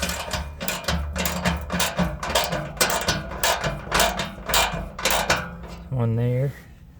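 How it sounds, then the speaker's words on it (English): A 10mm socket on a ratchet loosening skid plate bolts under a 2006 Nissan Titan, heard as a close run of repeated clicking ratchet strokes with metallic clinks, then a brief whirring burst near the end. "we had to take our 10mm socket, and we have to loosen"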